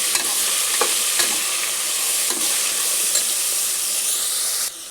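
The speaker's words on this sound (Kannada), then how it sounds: "ಹಾಕಿ ಚೆನ್ನಾಗಿ ಫ್ರೈ ಮಾಡ್ಕೊಂಡು" Mint and coriander frying in oil for a village-style chicken sambar, a loud continuous sizzle and hiss with occasional scraping stirs, close and unbroken, fading slightly at the very end.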